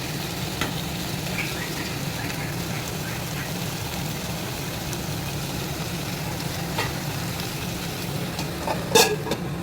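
Pointed gourd (potol) frying in a pan gives an even, low hissing sizzle throughout, with a brief clatter near the end.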